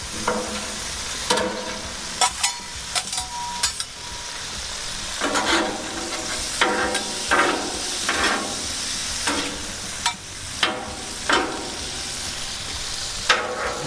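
Shrimp sizzle steadily on a hot Blackstone griddle, broken by a series of sharp scraping clatters as a spatula flips them, close and loud with no talking.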